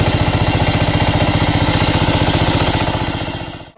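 A new tractor's engine chugs loudly and close while ploughing a field, a fast, even piston rhythm that holds steady before fading and cutting off at the end, with no voices.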